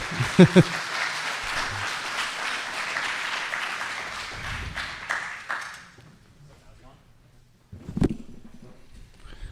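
Audience applause at a live political debate event in Seattle fills the first six seconds, a dense clapping crowd that fades out, followed by a few thumps and a short burst of sound near the microphone.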